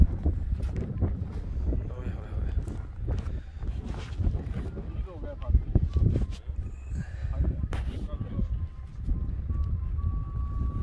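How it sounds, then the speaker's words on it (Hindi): Strong gusting wind outdoors in snow at a kite-flying combat event in Montreal, roaring steadily against the microphone with rustling and faint voices underneath. "काफी तेज हवा है आज।"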